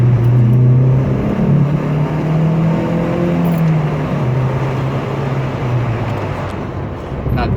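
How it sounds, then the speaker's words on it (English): A VW Golf CitiSport accelerating hard after a downshift to second gear, with a loud close engine drone whose pitch climbs steadily and then eases off as the revs level out. "I'm gonna gear it down to second and I'm gonna punch it"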